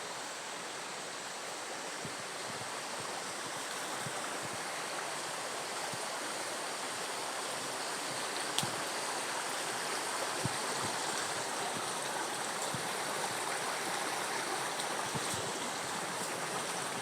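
A river in the upper Aude valley near the Marie-Madeleine springs, flowing with a steady, even wash of rushing water at moderate level, close by and uninterrupted.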